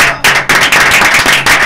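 Loud, close audience applause at a tropical music show, a dense burst of many hands clapping together, broken by brief dips.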